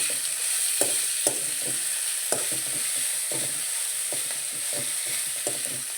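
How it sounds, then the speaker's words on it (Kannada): Onions fry in hot oil under a constant loud sizzle, while a spoon scrapes and stirs the pan in repeated, uneven strokes. "ಇದೆಲ್ಲ ಚೆನ್ನಾಗಿ ಎಣ್ಣೆಲ್ಲ ಫ್ರೈ ಆಗಿ ಬೆಂದ್ಕೋಬೇಕು."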